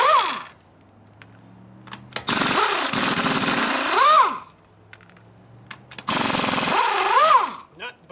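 A power tool, likely an impact wrench, rattles loudly in two long bursts while loosening tight original trailer spring nuts, with short quiet gaps and small metallic clinks between the bursts.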